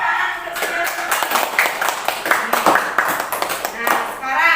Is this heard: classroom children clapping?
yes